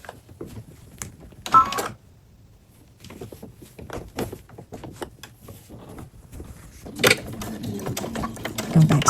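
A sewing machine stitches the bottom of a fabric bag in short close bursts of rapid mechanical whirring, broken by brief pauses, with light handling clicks between runs.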